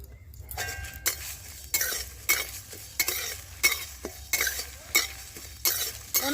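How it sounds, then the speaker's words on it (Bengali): Whole coriander, cumin and fennel seeds dry-fry over low heat for a chalta pickle, with a soft sizzle and regular bursts of scraping as a spatula stirs the pan roughly every half second. "এবার আমি এখানে নিয়ে নিয়েছি গোটা ধনে গোটা জিরে আর মৌরি এবার এইগুলোকেও দিয়ে আমি ভেজে নেবো হালকা করে"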